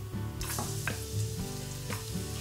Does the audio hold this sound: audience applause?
no